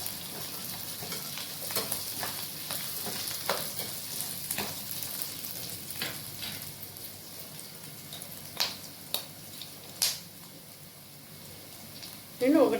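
Garlic cloves fry with onions in a pan, making a soft, steady sizzle with scattered clicks from stirring. A few sharper taps come near the end, and a voice is briefly heard at the close.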